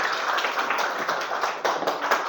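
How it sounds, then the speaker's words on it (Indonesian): Classroom applause for a classmate, a dense, steady patter of many hands clapping together close by, continuing evenly with no voices over it. "Kasih aplaus dulu untuk kawannya."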